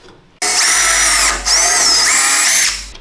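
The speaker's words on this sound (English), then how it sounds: "I've got to drill the holes in this gasket because of the metal here." A power drill bores holes through a metal-reinforced gasket for a Ram Air setup, loud and close, whining at high pitch in two sustained bursts with a brief dip between them.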